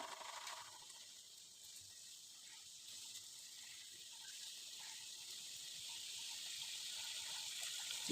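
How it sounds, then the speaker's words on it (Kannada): Rava karchikai stuffed with coconut and sugar, slipped one at a time into hot oil, making a soft, continuous hissing sizzle that builds slightly over time, with no talking. "ಈಗ ಕಾದ ಎಣ್ಣೆ ಒಳಗೆ ಒಂದೊಂದು ಸಾವಕಾಶವಾಗಿ ಬಿಡುತ್ತೆ."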